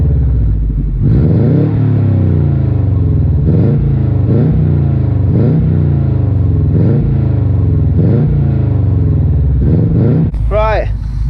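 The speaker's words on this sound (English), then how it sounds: "I'll give you a little rev." A Subaru WRX turbo engine idles smoothly up close, then gets blipped in a string of quick, evenly spaced revs that rise and fall, ending with a short higher flare.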